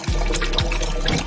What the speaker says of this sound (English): If I raise my hand here, you see, out comes the water.